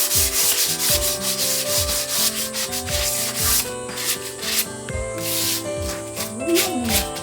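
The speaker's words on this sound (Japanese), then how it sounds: "まずヤスリをかけるんだって。 240番で先にかけろって。" Wood is sanded by hand with 240-grit sandpaper. Close, rhythmic rasping strokes repeat about twice a second and continue steadily throughout.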